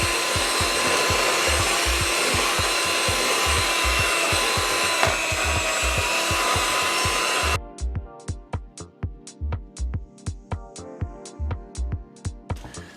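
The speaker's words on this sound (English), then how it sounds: "So I'm just going to mix up my ingredients now." An old-school electric mixer whirring steadily through strawberry shortcake batter ingredients, with rhythmic thumps of the beaters knocking against the bowl; the motor hum cuts out partway through while the knocking continues.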